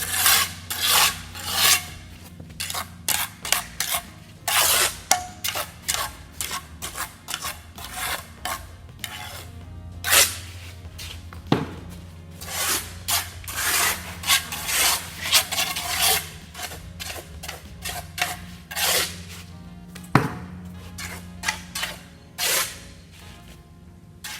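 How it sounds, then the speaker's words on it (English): Excess mortar being scraped off a freshly laid 8-inch concrete block wall, with repeated rasping strokes in irregular bursts and pauses, close by and fairly loud, with no talking. "I'm going to first scrape away the excess mortar from the outside and inside of the wall."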